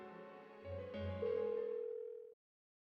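A phone in the video game Persona 4 Golden rings out unanswered, a steady electronic tone that rises and sustains for a couple of seconds before cutting off abruptly, with no one speaking.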